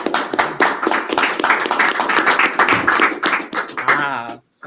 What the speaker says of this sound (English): Ah, so many claps.